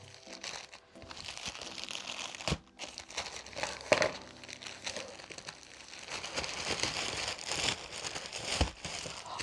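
Paper crinkles, rustles and tears continuously as triple-layered paper packaging on a parcel of second-hand manga is pulled apart up close, with occasional sharper crackles.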